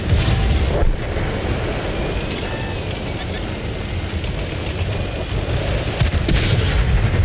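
A tank gun firing in the World of Tanks console game, heavy booming blasts over a constant rumbling battle background, with a player talking over it.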